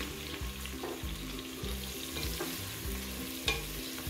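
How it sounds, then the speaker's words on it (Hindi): Sliced onions sizzle and fry in oil over a high flame while browning for an aloo chicken shorba, a steady close crackle with periodic stirring scrapes and no voices. "और इसको अब हम हाई फ्लेम पर ही थोड़े ब्राउन करेंगे।"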